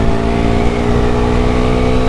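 A Pulsar 220 motorcycle at speed, a loud, steady engine drone held close for a couple of seconds without letup.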